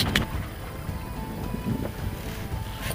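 A sailboat motors under engine power at sea off the Brittany coast, its low engine drone steady beneath gusty wind buffeting the microphone.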